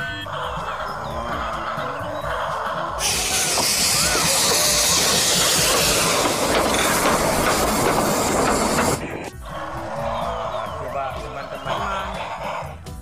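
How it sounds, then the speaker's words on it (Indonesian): A loud, steady hissing rush swells for several seconds between quieter stretches of clicking, like a small toy train running on its track. "Wah, kereta apinya mengelilingi mainan."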